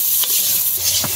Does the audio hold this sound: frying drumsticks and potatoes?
yes